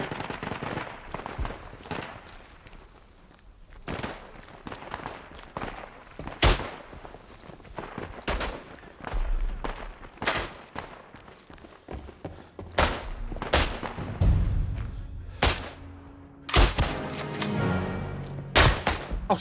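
Machine gun fire and rifle shots in the First World War video game Isonzo crack out in irregular bursts and single reports, some near and sharp and others farther off, with no talking.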